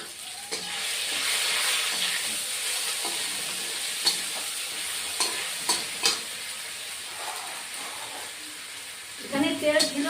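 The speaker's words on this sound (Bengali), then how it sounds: "আর এক চামচ জিরে ফোড়ন দিচ্ছি কাঁচা লঙ্কা বাটা দিচ্ছি" Cumin seeds and green chili paste sizzling in hot oil, a dense continuous hiss with scattered sharp crackles and pops, stirring scrapes near the end.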